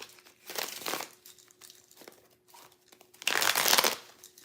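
A tarot deck is shuffled by hand in two quick papery riffling bursts, the second louder, separated by quieter card handling, with no talking.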